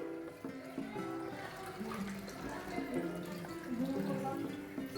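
Fish being washed under running water: a steady tap stream splashes and gurgles with shifting tones, continuous and moderately close, while voices talk over it.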